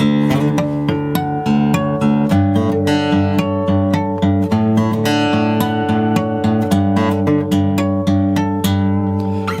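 An acoustic guitar strums and picks a bright, ringing song intro pattern with steady rhythm and open droning low strings, close and clear with no talking.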